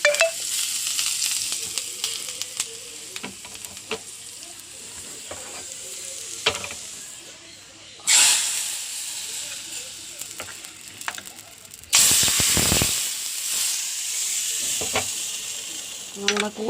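Dried red chillies and curry leaves crackle and sizzle in hot oil for tempering a dal and drumstick curry, a steady close frying hiss with sharp bursts of spluttering as ingredients hit the pan.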